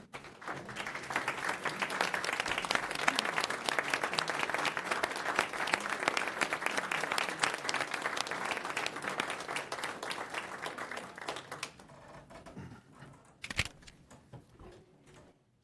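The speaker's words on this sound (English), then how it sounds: "let's give them a standing" A standing ovation from the audience at a Sacramento Regional Transit District board meeting: sustained, full-room clapping for about eleven seconds, then thinning to a few scattered claps and room noise with a sharp knock near the end.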